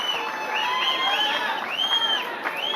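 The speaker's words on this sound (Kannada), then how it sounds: "ಎಲ್ಲರೂ ಕೂಡ ಜೋರಾಗಿ ಚಪ್ಪಾಳೆ ತಡೆಯುವ ಮುಖಾಂತರವಾಗಿ ಅವರಿಗೆ ಸಹಕಾರವನ್ನು ನೀಡಬೇಕು ಅಂತ ಮನವಿ." An audience at a Karnataka Congress working presidents' oath-taking ceremony applauds and cheers, a dense continuous clatter of clapping with scattered whoops and crowd voices, loud and close.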